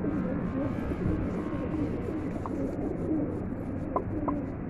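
Pigeons cooing as they stand waiting for water, a low murmuring coo running steadily beneath background noise with a couple of brief higher chirps, close by.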